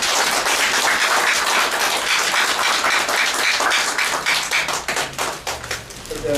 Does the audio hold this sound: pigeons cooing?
no